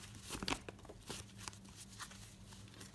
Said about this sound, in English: So I'm going to shuffle and see what comes out.